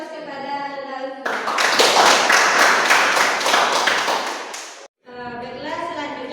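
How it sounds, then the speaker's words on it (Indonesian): A classroom of students breaks into lively clapping for a classmate named Lutfi, several seconds of steady applause that stops abruptly, with a teacher's voice heard before and after it. "Beri aplaus kepada Lutfi."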